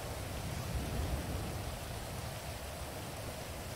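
Rain falling in the video game GTA 5, a steady, dense hiss of drops on surfaces that stays level throughout, with no talking.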